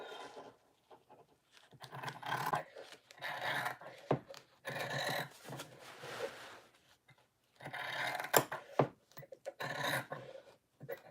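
Fabric of a tote bag being trimmed, a close series of soft rasping, rubbing cuts in irregular bursts separated by brief quiet gaps.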